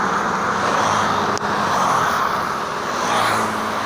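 A car is driving along a road, heard from inside as a steady, loud broadband road and engine roar that holds throughout with one brief dip.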